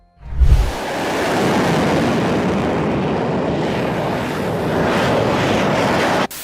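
A British arrow-shaped car powered by a jet engine drives past with a steady, broad roaring rush that stays constant for several seconds and then cuts off abruptly at the end.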